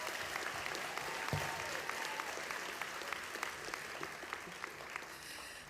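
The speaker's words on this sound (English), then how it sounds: "Please give Gabrielle a big round of applause" A large graduation audience at a high school commencement claps steadily in a big hall, a soft, even wash of applause heard from a distance and lasting throughout.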